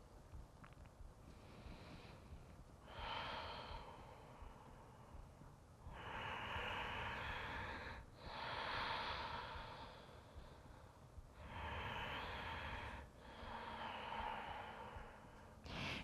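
Slow, deep breathing during a home yoga practice in a supine twist, with long airy inhales and exhales alternating steadily at close range, soft and unaccompanied by talk.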